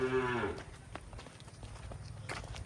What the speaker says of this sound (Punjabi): ਇਹ ਆਈ ਹੈ ਜੀ ਵੱਡੀ ਗਾਂ, ਚੋਲਸਤਾਨੀ ਫਰੀਜ਼ੀਅਨ ਕਰਾਸ ਦਾ ਜਾਨਵਰ ਹੈ, ਬੜਾ ਤਕੜਾ।